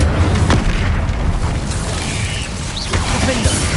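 Incendio fire spell cast in the Hogwarts Legacy video game, a dense booming burst with rumbling low end that fills the short moment, with faint speech mixed in.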